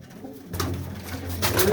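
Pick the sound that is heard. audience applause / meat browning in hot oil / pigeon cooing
pigeon cooing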